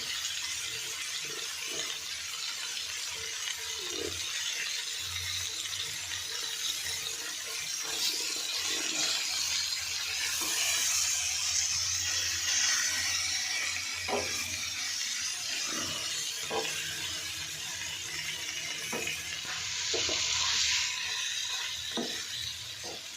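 Marinated chicken frying in a pan, a steady sizzle with occasional stirring scrapes and taps of a spoon, close and moderately loud, no talking.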